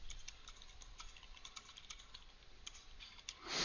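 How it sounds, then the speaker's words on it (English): Steady, fast typing on a computer keyboard, a run of light clicks and taps at close range, fairly quiet, with no voices. "you are typing along in the message"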